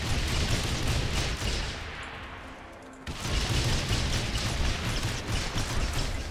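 Grenade launcher fire in Saints Row The Third, a dense roar of blasts and gunfire that drops away briefly midway, then slams back in with a sharp hit and continues loud and busy.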